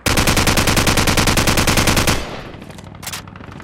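An assault rifle in Call of Duty 4 fires on full auto for about two seconds, a loud, rapid, evenly spaced burst. It cuts off abruptly into a short fading tail with a faint clink, and no one speaks.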